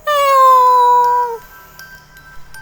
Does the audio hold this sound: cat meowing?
yes